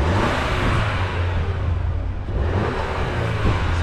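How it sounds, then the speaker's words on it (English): A Cadillac truck engine revs steadily and loudly up close, giving a continuous rumbling roar with slight swells in intensity throughout. "Let me rev it up."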